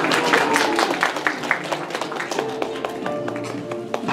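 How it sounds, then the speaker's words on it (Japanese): An audience claps at a monkey show at a Kobe monkey theatre, with a burst of scattered hand claps over a murmuring crowd that thins out toward the end. "みんなに拍手。"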